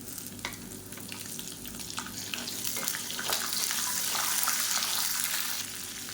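Small shallots and garlic sauté steadily in a pan for an onion thokku, giving a continuous crackling sizzle with occasional stirring scrapes and a faint background hum, no voices.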